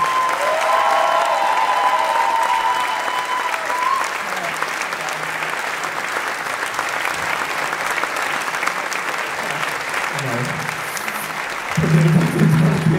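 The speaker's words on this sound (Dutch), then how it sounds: "Nog een warm applaus." Warm applause from a gala audience for Mister Gay Belgium 2017, a dense, steady wash of clapping held for the whole stretch, with a faint tone early on and some low murmuring near the end.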